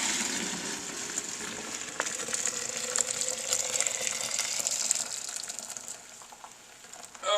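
Hot sweet tea pours steadily into a pitcher in a kitchen sink, a continuous hissing, splashing stream that stays even and fairly close before tapering at the end.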